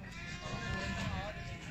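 A goat bleats at a goat market in Gujrat, Pakistan, a steady harmonic animal call heard close over a busy, noisy crowd background.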